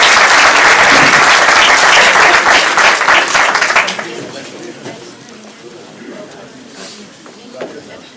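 Loud audience applause greeting poet Raja Awais at a Majlis e Warraq mushaira in Michigan, a dense burst of clapping for about four seconds that then thins into scattered claps and room murmur.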